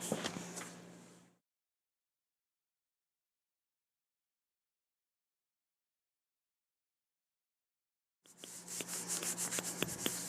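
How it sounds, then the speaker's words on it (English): Ink being rubbed by hand onto a collagraph printing plate, heard as short close scrubbing bursts at the start and end with a long silence between. "let's really make sure we're rubbing in that area to get it all transferred"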